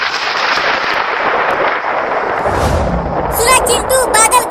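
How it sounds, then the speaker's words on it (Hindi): A deep rumble of thunder rolls in over steady rain-like noise, followed by a few sharp, bright clicks near the end. "सुना चिंटू, बादल गरजने लगा,"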